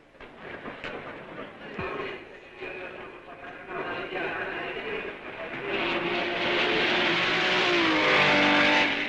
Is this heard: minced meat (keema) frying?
no